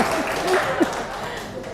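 A short burst of classroom applause for a student during an Indonesian English lesson: a few seconds of dense, steady clapping from a group, fairly close and continuous.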